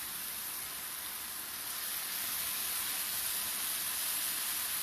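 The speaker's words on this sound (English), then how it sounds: "I'm going to add in a tablespoon of soy sauce" A tablespoon of soy sauce hits a hot pan, producing a steady, close, bright hiss and sizzle that holds evenly and swells slightly toward the end, with no talking.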